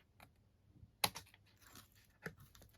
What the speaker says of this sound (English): So just cut it at that score line, and then again take a little wedge off either side